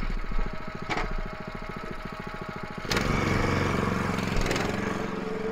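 An Allis-Chalmers B tractor fitted with a cultivator runs close by, its engine chugging in a steady rapid rhythm before a sharp clatter and a louder, rougher run.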